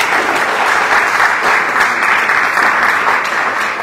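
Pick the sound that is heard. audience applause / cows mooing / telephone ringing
audience applause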